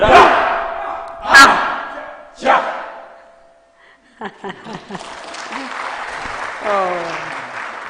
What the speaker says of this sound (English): Another round of applause for this wonderful choir